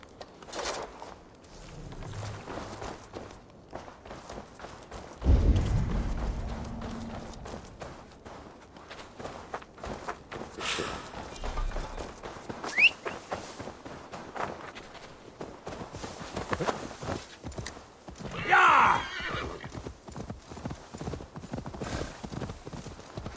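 Horse hooves clip-clop in the Assassin's Creed Valhalla video game, a steady walking rhythm of fairly close hoofbeats with a whinny and occasional heavier thuds and rustles over the game's ambient bed.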